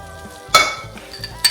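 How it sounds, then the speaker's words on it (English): Egg mixture being stirred into a warm sweet potato mixture in a bowl for pancakes, with a sharp clink of a utensil on the bowl and then softer scraping and a last tap, close and alone. "I'm going to mix that together."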